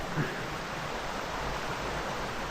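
Steady broadband rush of a flowing creek on a North Georgia mountain-bike trail, continuous and fairly close, with no distinct splashes.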